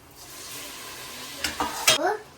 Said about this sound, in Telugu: మనం ఇప్పుడు టమాటోలు వేయాలి